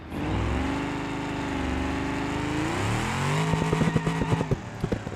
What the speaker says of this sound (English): brakes locking up